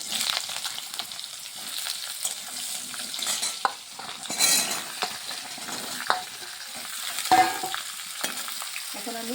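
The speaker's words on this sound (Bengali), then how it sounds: "মেথিটা যাতে না পুড়ে যায় সবজিটা দিয়ে দিচ্ছি" Papaya pieces with fenugreek seeds and green chilli sizzle and fry in a little oil in a pan, a spatula stirring and scraping in repeated strokes over the steady crackle, close and fairly soft.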